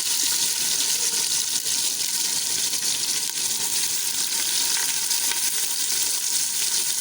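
Two medium onions cook in a pan of roasted ingredients for beef keema karahi, giving a loud, continuous, even sizzle with a watery hiss that holds steady throughout, close up and with no talking.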